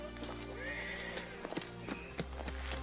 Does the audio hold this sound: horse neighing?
yes